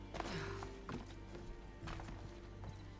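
A horse trots in Assassin's Creed Odyssey, with a few distinct hoof clops at an uneven pace over a steady game ambience and a low hum.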